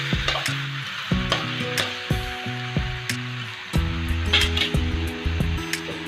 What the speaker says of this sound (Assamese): জুইটো ভালদৰে ভাজি ল'ম, শুকানকৈ ভাজি ল'ম